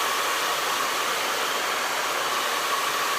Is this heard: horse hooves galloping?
no